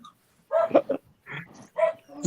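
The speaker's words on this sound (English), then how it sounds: "But whose dog's barking in the back?" A small dog gives a series of short, yappy barks and whimpering yips, several bursts in quick succession at moderate volume.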